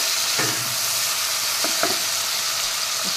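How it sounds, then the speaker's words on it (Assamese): Chopped tomato fries with onions in a pan, a steady close sizzle with a few brief scraping stirs of the spoon, no talking. "এটা মিডিয়াম চাইজৰ বিলাহী কাটি দিছোঁ, সেইটো দি দিছোঁ আৰু সেইখিনি অকণমান গলি নোযোৱালৈকে ভাজি"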